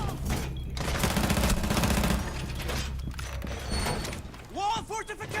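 Gunfire in the video game Rainbow Six Siege, loud rapid bursts of automatic shots crowding the first seconds, then sparser blasts and mechanical clatter with game voice lines and talking mixed in.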